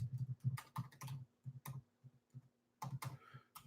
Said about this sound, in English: I'll just type it in for you.